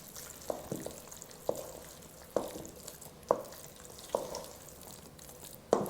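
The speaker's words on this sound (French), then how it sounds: "ce qu'on ajoute en premier, c'est la ricotta. Et on commence à mélanger." Ricotta is stirred in a bowl with a spoon, producing soft, wet, irregular scraping strokes, each a short smack about every second, close and fairly quiet.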